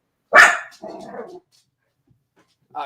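A dog gives one loud, close bark followed by a shorter, lower bark or growl, then a gap of near silence before another bark begins at the end.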